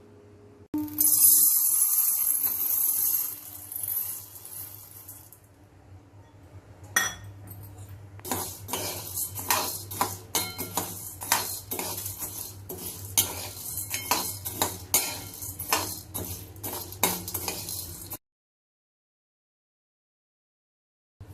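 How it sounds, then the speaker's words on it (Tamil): Dry chana dal roasting in a pan for garlic idli podi, stirred with a metal spoon that scrapes and clinks against the pan in a steady run of taps. The scraping stops abruptly near the end. "இப்போ அடுத்தது வந்து கடலைப்பருப்பு போட போகிறேன்."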